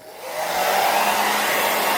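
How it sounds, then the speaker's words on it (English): Hairdryer switching on and blowing steadily to melt wax into a cotton outdoor garment, rising in the first half second to a loud, even whoosh held close up, no voices. "Get your hairdryer on"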